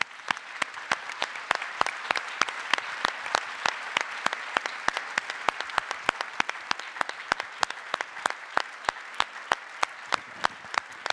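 An audience at a national book presentation applauds with steady, sustained clapping and sharp individual claps that stand out throughout.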